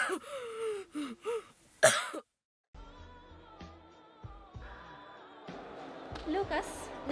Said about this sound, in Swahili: Acha kukohoa.